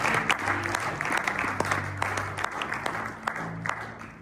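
A church congregation claps loudly together, a dense burst of applause that holds steady and then thins out slightly, with voices mixed in.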